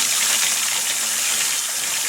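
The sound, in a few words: cold water poured into bowl to rinse sushi rice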